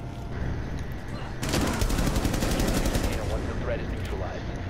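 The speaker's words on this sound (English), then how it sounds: "it looks like you shot through Bell" Gunfire in Rainbow Six Siege, a rapid automatic burst of shots that starts abruptly and rattles on loudly for a few seconds, close and dense over a background of game sounds.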